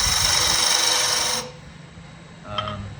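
A skew chisel cuts wood on a lathe while a colorful goblet is turned, giving a loud, steady rasping shear for about a second and a half before it cuts off abruptly. After that only a faint hum remains, with a brief soft tone near the end.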